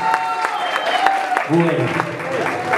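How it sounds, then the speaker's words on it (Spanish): Audience applause at a quinceañera celebration with mariachi, a steady clatter of clapping running throughout, with a voice speaking briefly over it. "un aplauso bien fuerte"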